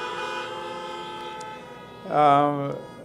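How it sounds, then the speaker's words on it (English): Car horns honking at a memorial service, a sustained harmonic toot rising loudly near the end after a fainter drawn-out horn tone, with crowd speech around it. "when people agreed with you, they could honk their horn"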